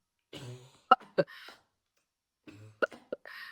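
Two bursts of harsh, close coughing, each a short run of raspy hacks and throat-clearing, separated by a second of silence.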